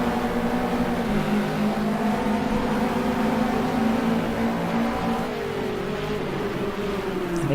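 GT3 race cars running side by side down a straight at Melbourne in a racing video game, loud sustained engine drone with layered rising and falling pitches as two cars hold speed together.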